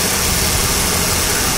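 A 3.0-litre Vulcan 12-valve car engine runs steadily up close, a dense, even idle hum with constant loudness and no voices.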